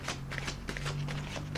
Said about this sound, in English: I'm gonna put another rifle and another shuffle on the deck